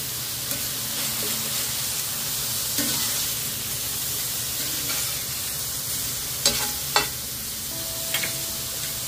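Ground meat browning in a pan for spicy habanero spaghetti sauce gives a steady, broad sizzle throughout, with a few sharp clicks and scrapes of stirring toward the end.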